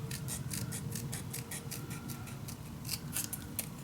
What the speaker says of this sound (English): So really cut off your pencil mark, then you will get that 1 millimeter smaller shape.